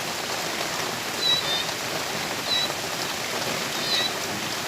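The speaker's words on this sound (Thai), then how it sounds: "ฝนตกแล้วค่ะฝนตก" Steady rain falls in a dense, even wash of patter on surfaces, continuous and close throughout, with a few faint high chirps far in the background and no talk.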